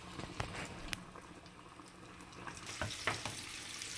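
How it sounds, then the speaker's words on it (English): A whole fish, walleye or crappie, drops into deep oil and fries submerged, a soft bubbling boil broken by a few sharp pops and splashes, fairly quiet and with no speech. "Just gonna drop her in there. And I have my oil is deep here, so like the whole fish gets submerged."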